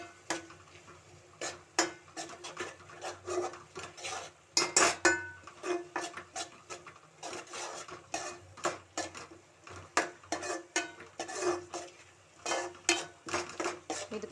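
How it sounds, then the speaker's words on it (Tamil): Spices being stirred in a pan for a kendai fish curry, a busy series of metal spatula clanks and scrapes against the pan over a faint sizzle, no voices. "கிளறிக்கலாம் நல்லா"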